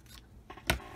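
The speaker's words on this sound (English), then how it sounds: "Just gonna take my scissors" Scissors snip paper during a craft project in two or three quick, close cuts, the last one sharp and loud, with no voices.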